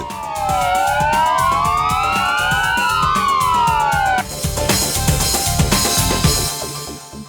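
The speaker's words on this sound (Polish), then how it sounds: "W całym kraju w południe zawyły policyjne syreny" Police sirens across Poland wail at noon in a nationwide commemoration, continuous with rising and falling tones, loud and close, later overlapping into a denser, noisier siren blend.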